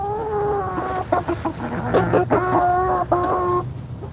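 A Rhode Island Red chicken clucks in short harmonic bursts, close by, with several quick calls in a row and a low background hum.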